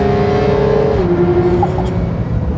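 A Porsche 911 GT3 engine screams at very high revs up to 9,000 rpm, holding a steady tone, then dropping slightly in pitch as the PDK gearbox shifts, loud and close.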